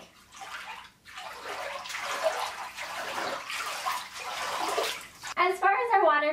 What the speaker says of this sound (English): So let's get our water all mixed up and see what it looks like.